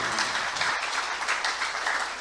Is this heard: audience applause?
yes